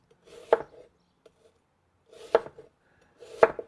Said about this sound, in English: I want to kind of cut them in maybe like 1/4 inch slices